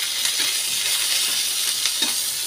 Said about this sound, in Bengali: এবার এটা একটু ভাজতে থাকি